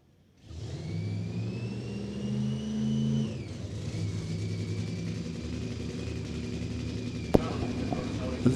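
Nitromethane-fueled funny car drag racer engine roaring at a dragstrip, a loud sustained rumbling run that shifts pitch partway through, with an announcer talking over it and a sharp bang near the end.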